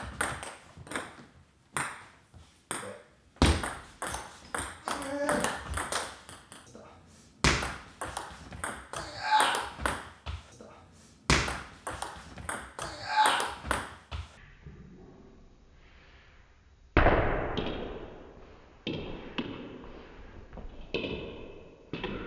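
Table tennis ball struck with penhold backhand push shots in a coaching session, giving a fast run of sharp pings and taps between stretches of a voice talking, with a brief quiet gap near the end.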